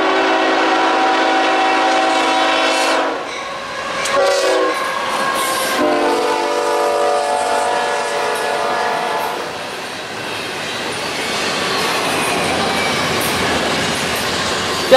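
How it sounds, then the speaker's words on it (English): A loud train horn blares in long blasts as a short freight train rushes past close by at speed, its rumbling, clattering roar swelling and lingering. "this train is actually very short, so no wonder he's flying after that southbound"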